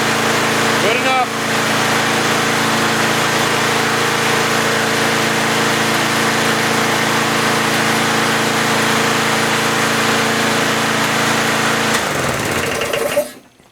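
A Craftsman push mower's small engine runs steadily at about 3,300 RPM, loud and close with a constant droning hum, then cuts out near the end as the engine winds down.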